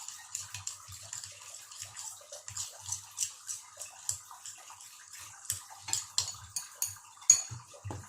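Cucumber salad with green onion being tossed in a bowl, giving light clinking and scraping of utensils against the dish in an irregular run of small taps, close and fairly quiet, with no voices.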